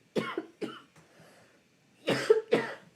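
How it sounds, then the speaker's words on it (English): A person coughs close by: two quick coughs, a short pause, then two more harsher coughs. "I have to cough for a second."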